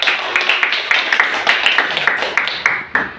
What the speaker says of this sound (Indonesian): Tepuk tangan sekali lagi buat mereka